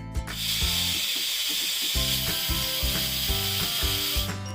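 A pressure cooker hisses steadily with a steam-like rush while chicken biryani cooks inside, the sound continuous and fairly loud, layered with a rhythmic, pulsing rumble underneath.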